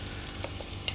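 Onion gently frying in a pan, a quiet, steady low sizzle with a few faint pops over a brief moment, no voices.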